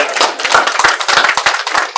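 Audience applause in a classroom setting after a group presentation, a small group clapping close by with distinct individual hand claps in a quick, uneven rhythm lasting the whole stretch.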